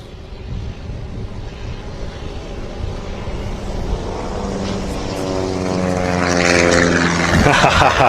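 Cessna propeller plane flying past an airport, its engine drone building steadily from distant to loud and close, with a clear pitch sweep as it passes overhead.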